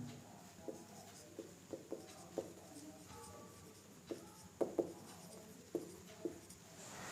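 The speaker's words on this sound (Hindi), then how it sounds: "यहां पे लिखते हैं" Chalk or marker writing on a board during a physics lesson, soft scratchy strokes and light taps coming in short irregular bursts, close and quiet.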